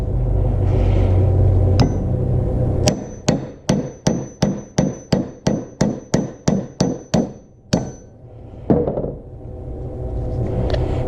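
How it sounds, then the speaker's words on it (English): A rapid series of about a dozen sharp, ringing blows from a regular hammer on a metal punch while making a coin ring, evenly spaced, loud and close over a low rumbling background. "so I'm using a regular hammer"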